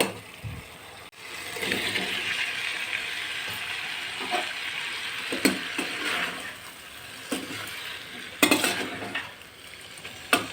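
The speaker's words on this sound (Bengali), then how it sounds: "এখন আমি নুডলসগুলো ঢেলে দেবো" Noodles made from wheat flour, tipped into a pan with soy and tomato sauce and stirred, giving a hissing sizzle that rises and fades, with occasional clinks and scrapes of the utensil against the pan.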